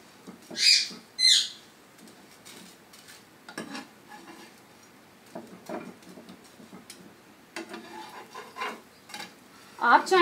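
Bread toast sizzling in drizzled oil in a pan, a soft steady fry under scattered clinks and scrapes of a utensil, with a couple of brighter sharp bursts near the start.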